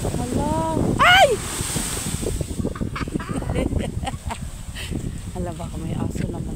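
Sea waves surging over the shore at high tide, the water overflowing its usual line, with a steady rushing wash and wind buffeting the microphone while people talk and exclaim over it.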